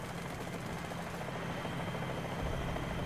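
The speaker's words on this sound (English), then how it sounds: "I hear a helicopter" A helicopter in War Thunder whirs steadily nearby, its rotor and engine droning continuously at moderate loudness with a low rumbling pulse.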